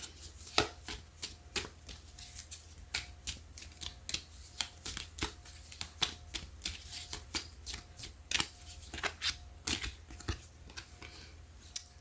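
A deck of cards is shuffled for a tarot pick-a-card reading, giving a steady run of crisp riffles and snaps, close and fairly loud, repeating every half second or so with no talking.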